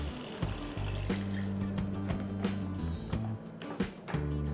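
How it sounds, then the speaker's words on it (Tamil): Water pours into sautéed masala in a pan for mochai kulambu, a steady splashing gush with hissing underneath, fairly quiet and close. "இப்போ நம்ம இந்த மசாலா எல்லாத்தையுமே ஒரு வதக்கிட்டு தண்ணி ஊற்றிக்கலாம்"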